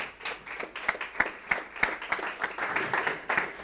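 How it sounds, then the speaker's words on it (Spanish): Audience applause welcoming a speaker onstage at a creativity talk, a brisk stretch of sharp, uneven clapping from a modest crowd, fairly close and steady for a few seconds, with no talk over it. "Vamos a primero recibir con un aplauso a Emilia Armstrong."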